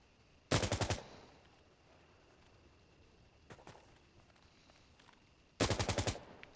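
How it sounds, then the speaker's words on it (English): Two loud bursts of rapid gunfire, like machine-gun or mortar shots, in a military video game set at a farmhouse, with a fainter burst between them over a quiet background hum. "There's the mortars."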